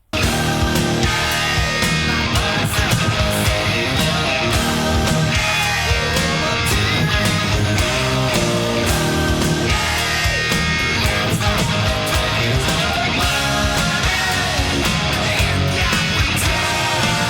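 An electric guitar, joined by a full band, plays the chorus. The playing is dense, loud and continuous, with no talking over it.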